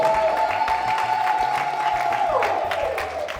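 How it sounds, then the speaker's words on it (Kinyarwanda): A church congregation applauds in a short burst of clapping, with a held tone from music running underneath throughout. "Tugukomeye amashyi tugushimira mu izina rya Yesu"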